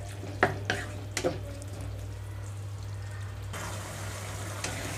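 Bottle gourd curry simmering on a medium flame, a steady low bubbling hiss with a few soft clinks of stirring early on, close and fairly quiet, with no talk.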